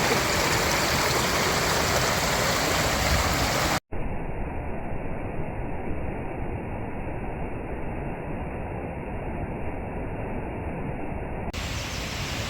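The Hardraw Force waterfall on Hardraw Beck in the Yorkshire Dales, a constant roaring rush of falling water heard close and loud, with a brief dropout and a shift in tone partway through.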